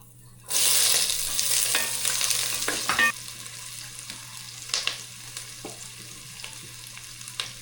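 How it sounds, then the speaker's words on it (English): Garlic and onions dropped into hot oil for beef kaldereta: a sudden loud sizzle that flares up close, then settles into quieter frying with a few clattering stirs and scrapes, no talking. "Put garlic and onions."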